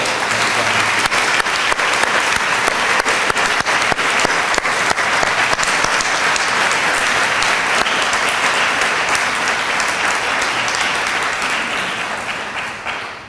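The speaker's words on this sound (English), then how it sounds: "join me in giving them a thorough round of applause for the work they've done" Audience at an engineering building grand opening gives the dean and director a long, full round of applause, steady and dense with crisp individual claps, fading out toward the end.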